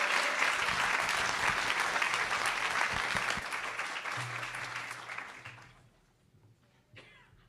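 Audience applause welcoming a speaker to the stage, a large crowd clapping steadily and loudly for several seconds before tapering off into near silence.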